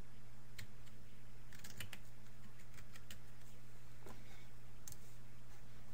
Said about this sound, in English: Just click on webmail and type in your password